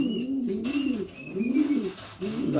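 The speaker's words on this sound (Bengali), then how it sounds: "এই যে এটা একটা মাদি কবুতর, খুবই ভালো।" Pigeons coo steadily in a breeding loft, their low rolling calls repeating close by with a few faint higher chirps mixed in, and no talking.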